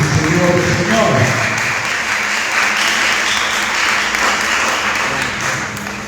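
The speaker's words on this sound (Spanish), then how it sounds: "¿Cuántos le dan una ofrenda de aplauso al Rey de Reyes y Señor de Señores?" A church congregation breaks into sustained applause during a worship service, a thick wash of clapping that stays strong and gradually eases, with a voice briefly heard at the start.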